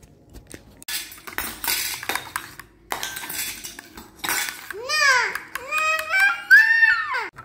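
A child plays with toy cooking pots and dishes, producing scattered metallic clinks and clatters, followed by the child's high squealing vocalizations.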